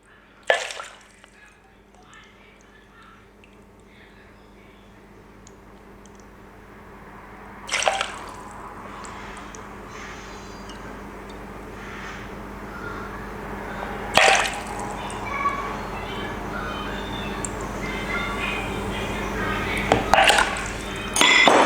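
Water measured and poured into a blender jug while making a tiramisu: soft trickling and dripping with a few sharp clinks of kitchenware, close by, with a voice now and then.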